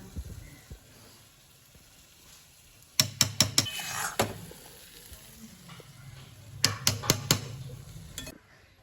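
Spiced masala tipped into boiled rice and lentils for khichdi, with two bursts of sizzling and several quick scraping stirs against a pot over a low, steady kitchen background, and no voices.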